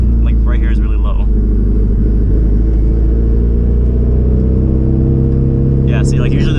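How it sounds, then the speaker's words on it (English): A 450 hp car's engine lugs in a high gear at very low RPM, making a loud, deep, steady drone with harmonic throb heard from inside the cabin, with brief speech at the start and end. "But I'm gonna see if I can try to lug it. Like right here is really low."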